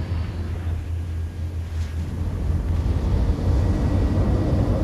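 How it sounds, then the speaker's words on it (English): Spaceship climbing after takeoff during a Star Citizen cargo run, a loud steady engine roar with a deep low hum that swells slightly toward the end, heard alone. "Takeoff complete. Landing gear raised."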